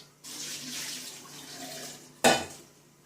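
Water splashes and trickles steadily, then a sharp louder splash near the end as it is poured out of a bowl, close by, while making chocolate.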